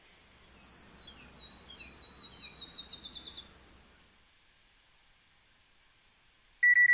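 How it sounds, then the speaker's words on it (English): Birds chirping in the video game Penelope Pendrick and The Art of Deceit: a quick run of high trilling tweets over soft background noise for a few seconds, then near silence before a sharp electronic beep at the end. "Hear the birds chirping."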